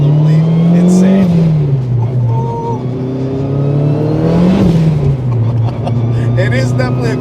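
A 450 wheel-horsepower turbocharged Acura RSX with straight-cut gears revs loudly, its pitch rising and falling in surges, with a whirring turbo note riding over the deep growl.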